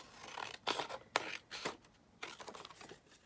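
Scissors snip through paper in several short, crisp cuts with pauses between them, close by and fairly quiet, while trimming a strip down for a simple, plain journal tag.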